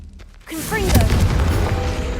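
A Confringo fire-blast spell from Hogwarts Legacy erupts after a short quiet lead-in: a loud, sudden burst with rising, sweeping whistle-like tones, then a sustained roaring rumble that holds to the end.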